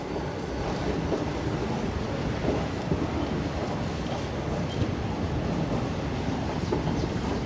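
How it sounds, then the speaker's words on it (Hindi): A 04633 DEMU diesel train pulls out of Sultanpur Lodhi station on a single-line section, giving a steady, broadband rumble of engine and wheels that holds at an even level throughout, with no voices over it. "तो 2 मिनट रुकने के बाद अपनी ट्रेन सुल्तानपुर लोधी से निकलती है"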